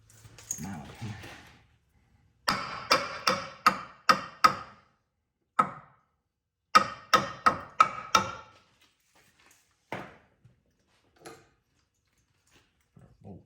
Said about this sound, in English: tap it up in there with a mallet here